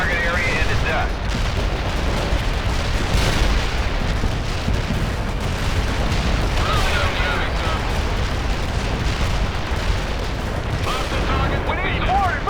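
An artillery barrage in the strategy game World in Conflict rumbles as dense, continuous explosions and blasts, loud and layered throughout, with a radio voice speaking over the din.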